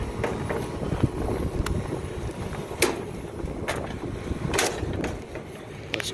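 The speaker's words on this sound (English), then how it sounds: "wind is about to blow me off the roof" Wind gusting across a rooftop by a Carrier HVAC unit, a constant low rumbling buffet with brief sharp knocks and clatters scattered through it and no one talking.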